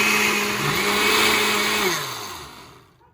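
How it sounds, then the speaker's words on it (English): A blender whirs loudly as it purees an egg bite mixture, its motor holding a steady pitch before winding down and cutting off near the end. "we are just going to blend this up until it is completely combined and relatively smooth"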